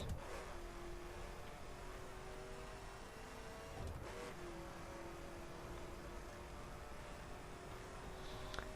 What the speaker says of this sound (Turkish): Şimdi arabayı duyuyorsunuz şu an.